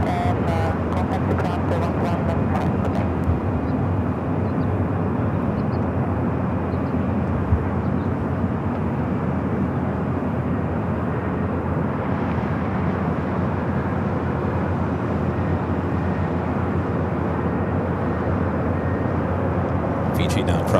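Jet airliner engines at LAX airport rumble as a steady, loud broadband roar across the whole stretch, with distant airport ambience and no clear individual events.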